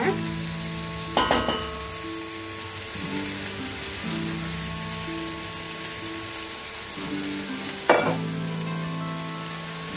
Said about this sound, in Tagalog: nagisa na po natin ang ating papaya at yung ating chicken